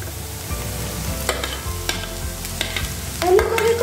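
Vegetables stir-fried in a pan for homemade atta pasta, with cabbage being added: steady close sizzling and frying with repeated scraping and stirring strokes of a spatula, no talking.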